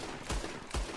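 Two heavy gunshots fired at fish in Red Dead Redemption 2, evenly spaced about half a second apart, each a loud booming crack over steady ambient game background.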